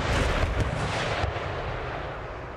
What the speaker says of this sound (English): My artillery is going to engage their mortars.